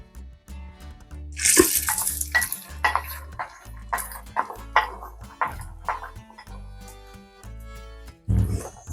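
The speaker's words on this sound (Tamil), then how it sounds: "எண்ணெய் காஞ்சிருச்சு, முட்டையை பொரிச்சிக்கிறேன்." Eggs frying in hot oil in a pan while cooking Malaysian-style mee hoon goreng, with bursts of sizzling and spatula scraping and stirring at varying loudness, close by and with no talk.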